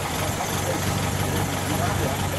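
A 1954 Arnolt MG drophead coupe's 54-horsepower engine idles nearby, a smooth, even low hum that stays steady under a constant wash of noise, with people talking close by.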